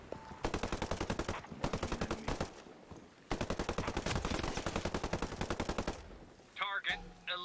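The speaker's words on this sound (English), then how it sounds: "I hear gunfire" Bursts of automatic weapon fire from the Ghost Recon Breakpoint video game rattle in rapid, sustained volleys with a brief pause midway, loud and close, ending in a few short shots.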